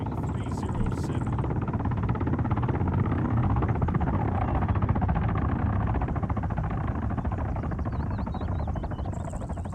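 A helicopter flies in the ArmA military video game, its dense rotor chop and turbine roar loud and steady throughout, with faint voice chatter over it.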